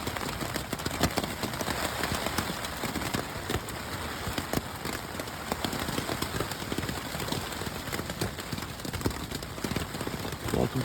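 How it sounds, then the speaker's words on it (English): Steady rain patters on a tent during an Appalachian Trail thru-hike in the mountains, a dense continuous hiss with scattered sharper drop hits, close and even throughout with no voices. "It's still raining."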